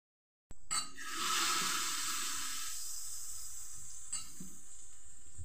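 Hot tadka with turmeric hits chutney in a sudden loud hiss that swells and gradually settles into a steady sizzle, with a faint clink near the end, close up and without voices.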